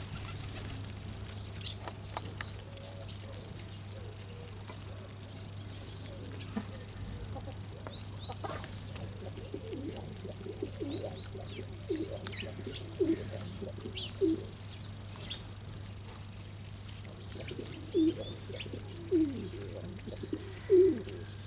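Doves cooing outdoors during morning chores, several soft low coos coming from mid-distance and growing more frequent toward the end over steady background hum and faint chirps.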